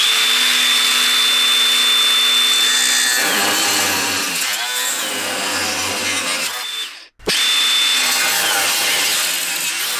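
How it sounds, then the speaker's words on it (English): An angle grinder cuts through the core support of a BMW E30 with a loud, close, high-pitched whine. The tone dips and shifts as the disc bites into the metal, then cuts out briefly before spinning back up. "So let's get the angle grinder out and get this cut"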